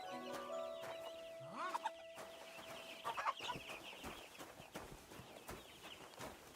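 Horse in the medieval game Kingdom Come: Deliverance II, with clip-clop hooves and snorting amid farmyard chicken clucks and a rooster call, a busy village ambience with no talk.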